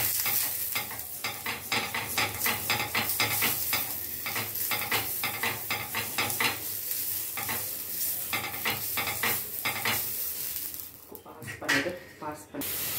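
An onion half dipped in oil is rubbed over a hot dosa pan, giving a hissing sizzle broken by rapid scraping strokes. The sound is close and moderately quiet and fades into a few softer rubs at the end.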